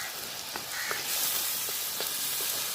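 Curry leaves hit hot oil for a big fish head curry, raising a loud, hissing sizzle that swells and holds, with a few faint spatters and soft knocks nearby and no talk.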